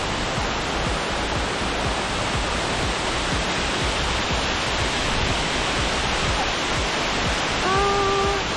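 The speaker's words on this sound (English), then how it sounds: "on the way back from the beautiful waterfall" A waterfall in Hokkaido, Japan roars in a steady, dense wash of rushing water, close and unbroken throughout, with a few faint tones appearing briefly near the end.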